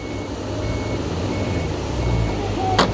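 An Isuzu FVZ 300 truck stuck deep in mud reverses, its engine rumbling low and steady while a repeating reverse beep sounds over it, ending in a sharp louder burst near the close.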